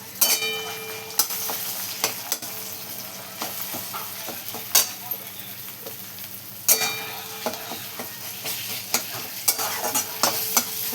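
Cluster beans being stirred in a pan with a ground paste of peanuts, green chillies and garlic, a spoon scraping and knocking in an uneven rhythm over a soft steady sizzle, close and alone.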